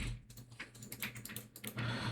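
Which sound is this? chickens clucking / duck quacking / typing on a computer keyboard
typing on a computer keyboard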